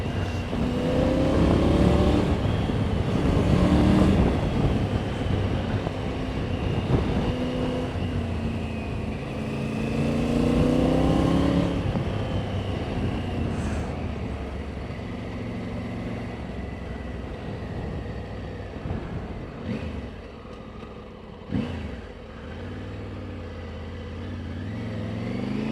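A Triumph Tiger 900 Rally Pro Desert Edition motorcycle pulls hard under acceleration, its engine note rising close and loud, then cutting briefly for a quick-shift from first to second before the revs climb again and later ease off.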